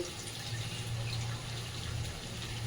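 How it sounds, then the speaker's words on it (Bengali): Water is poured into a cooking pan for a shola kochu and shrimp curry, a steady continuous rushing pour heard close and alone, without any talk. "এবারে আমি এর মধ্যে জল দিয়ে দেবো"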